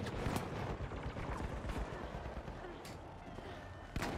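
Sustained gunfire from a turret in the video game The Finals, a dense continuous rattle with sharper bursts near the start and end, mixed with other game sounds and chaotic action.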